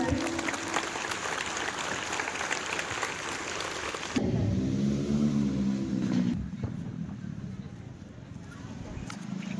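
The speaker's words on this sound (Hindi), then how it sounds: "सभी लोग ताली बजाएंगे।" Audience clapping at a school Independence Day celebration, a steady dense patter of many hands through the first half, then fading as music and a voice take over.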